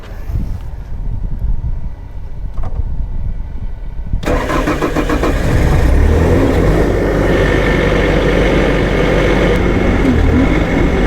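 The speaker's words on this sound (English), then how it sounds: "Now I'm going to get my engine startup video." Bobcat T590 skid steer loader engine cranking and catching at about four seconds, then running steadily at a loud, close idle after a quiet lead-in with faint background noise.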